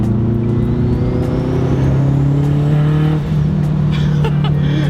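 A turbocharged Acura RSX Type S pulls hard in fourth gear, its engine note a loud, steady droning roar that holds and rises slightly, briefly dipping near the end as a faint whistle and chatter appear.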